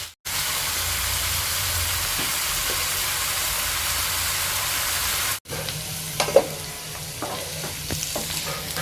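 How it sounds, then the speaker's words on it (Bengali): Potatoes fry in hot mustard oil in a kadai with a loud, dense hiss that holds steady for about five seconds. After a short break comes a quieter, crackling sizzle with a few clinks of utensils. "এবার মা এর মধ্যে আলুগুলো দিয়ে ভেজে নেবে"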